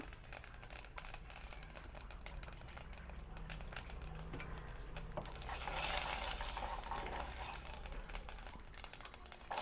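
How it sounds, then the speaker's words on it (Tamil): Mustard seeds and fennel seeds crackle and sizzle in hot oil, a dense continuous spitting and popping that swells slightly midway. "இப்போ கடுகு போடுவோம். கடுகும் பெருஞ்சீரகமும் போடுவோம்."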